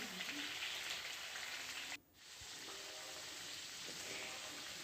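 Chicken pieces frying in a pan, a steady broadband sizzle and crackle for the whole stretch, briefly dipping around the middle as if the pan is disturbed, then resuming at full, close level.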